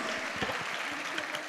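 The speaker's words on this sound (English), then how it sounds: "give a round of applause for the trustee member and the beautiful kids" Audience applause at a kids academy annual function honoring trustee members and children, a brief wash of clapping from a crowd, somewhat distant and soft, with faint voices mixed in.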